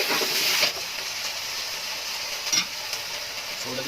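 Water poured into a hot pan of ube root and saba sardines sets off a loud, bright sizzling hiss that eases after the first moment, with a brief flare partway through.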